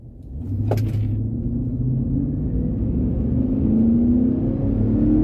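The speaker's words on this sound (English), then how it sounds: "it sounds so good, but it's still quiet in here, too, with the stock exhaust" A 2004 Chevrolet Avalanche Z71 pickup truck engine with stock exhaust drones steadily with a low, smooth rumble, the pitch slowly rising as it accelerates; a brief click sounds near the start.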